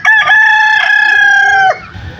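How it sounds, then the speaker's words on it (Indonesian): A rooster at a busy market in Simeulue, among village chickens and Siamese chickens, gives one loud, close, drawn-out crow that lasts under two seconds before dropping to quiet background noise. "Nah, ini juga ada banyak ayam kampung,"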